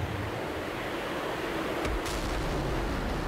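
Su-33 jet in the DCS flight simulator breaking the sound barrier, a broad steady roar of wind and engine noise with a brief sharp crack near the middle, heard alone without speech.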